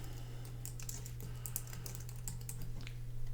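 Fingers tap out a name on a computer keyboard, the keystrokes coming in quick, uneven bursts over a steady low electrical hum, close and clear with no voices.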